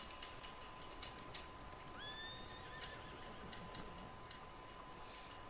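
A horse whinnies in Red Dead Redemption 2 Online, a clear rising neigh near the middle of a steady game ambience, with faint clip-clop and ticking around it.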